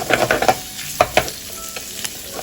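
Squid stir-fries in butter and oil in a pan, with a crackling sizzle under repeated scraping and tossing strokes from a utensil, close and lively.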